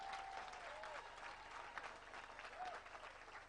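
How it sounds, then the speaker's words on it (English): An audience claps for a cleaner at a climate justice summer school closing ceremony in Nairobi, giving a steady, moderately loud round of applause with faint voices mixed underneath. "Can you clap for her?"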